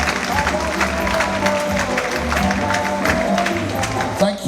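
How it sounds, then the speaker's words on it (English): Applause at a university mining speaker series, a full round of clapping with voices and crowd murmur mixed in, tailing off at the end. "Ladies and gentlemen, a round of applause one more time."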